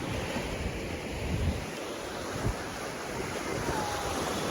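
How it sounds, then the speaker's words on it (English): Ocean surf washes steadily onto a white-sand beach in Tulum, a continuous broad rush of breaking waves with wind buffeting the microphone and no voices. "we're now on some beach in Tulum"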